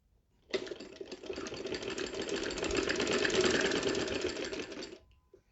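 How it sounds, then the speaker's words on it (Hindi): A sewing machine stitches folded fabric strips for a trouser hem in one continuous whirring run of about four and a half seconds, close and steady, starting and stopping cleanly. "फोल्ड करते जाएं एंड स्टिचिंग करते जाएं।"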